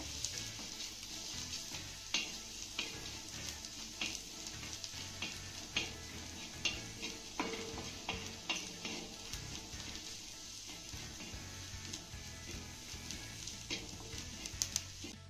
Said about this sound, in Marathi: पुन्हा आपल्याला हे सर्व साहित्य एक ते दोन मिनिटं चांगलं परतून घ्यायचं आहे